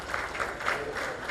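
Brief applause from a seated gathering at a Masonic conference session, a short patter of clapping lasting just over a second at moderate distance.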